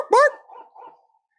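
Dog from the Duck Hunt video game giving a single sharp bark followed by a brief trailing yip, close and clear with silence after.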